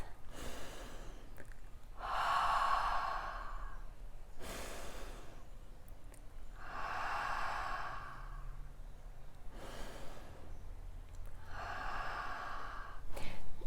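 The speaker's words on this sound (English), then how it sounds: "You take a breath." Deep, slow breaths demonstrated for labor: four long, audible breathing cycles with soft sighing exhales, close and quiet, with no talk in between.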